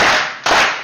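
A concert audience at a youth choir's 60th-anniversary celebration claps in unison, producing two sharp, loud bursts of applause about half a second apart.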